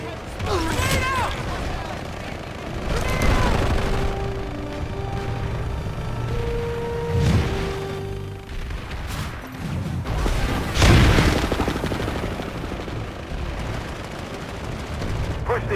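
Grenade blasts and gunfire in Planetside 2 fill a large battle, with repeated booming explosions and scattered shots over a constant din, while voices speak throughout.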